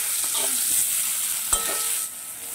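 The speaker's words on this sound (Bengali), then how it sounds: "একটু হলুদ লবণ মাখিয়ে কলাগুলো আমি ভেজে নেব" Long slices of raw banana coated in turmeric and salt fry in hot oil, giving a continuous bright sizzle with a few scraping stirs and one sharp knock.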